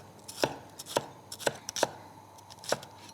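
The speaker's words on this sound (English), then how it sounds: "Just want to slice around the core." Knife slicing a fresh green pepper around its core on a board, five or six crisp, close cuts at uneven intervals, quiet in between, with no speech.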